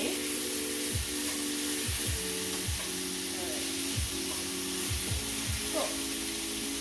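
Chicken pieces sizzle steadily in a large frying pan, a continuous close hiss with periodic scraping thumps from stirring or shifting, no talking.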